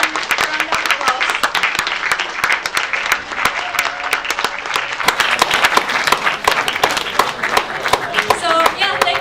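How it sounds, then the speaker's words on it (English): Loud, sustained applause at the close of a conference day on moderate Islam in Indonesia, many hands clapping steadily at close range, with voices and cheers mixed in throughout. "So please give them a round of applause."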